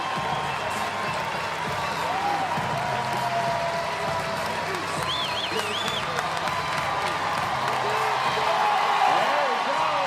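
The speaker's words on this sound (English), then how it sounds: "The crowd chanting Roman." At the 2023 CrossFit Games final day, a large arena crowd roars and chants an athlete's name in a continuous rhythmic wave. Cheers and whoops rise on top, and a voice carries over the noise.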